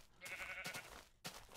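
A brown sheep bleats in Minecraft: a short, wavering nasal bleat followed by a second brief call, faint and isolated.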